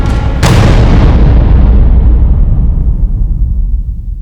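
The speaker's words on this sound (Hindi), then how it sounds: "मैंने धमाके की आवाज सुनी" A loud explosion blast bursts out half a second in, then a deep rumbling boom rolls on and slowly fades, set in a TV crime drama scene.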